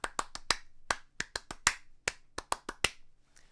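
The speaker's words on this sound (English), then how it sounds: "There's lots of things that you could clap like this." Crisp hand claps tapping out a syncopated melodic rhythm, about a dozen sharp, close strikes in uneven groupings, played alone in a quiet room.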